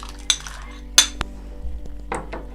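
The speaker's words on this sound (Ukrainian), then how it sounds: "Тепер я додаю горошок консервований" Canned peas being added to a pot of creamy soup, heard as a few sharp metallic clinks of a spoon against the can and pot, followed by soft stirring and faint scraping close by in a quiet kitchen.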